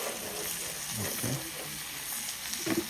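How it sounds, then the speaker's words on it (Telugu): Fish fries in oil in a pan, a continuous close sizzle and crackle with a few soft bubbling pops and scrapes from turning the pieces, steady and alone without talking. "ఇటు ఒక 10 మినిట్స్ అలా మనం ఫ్రై చేసుకుందాం"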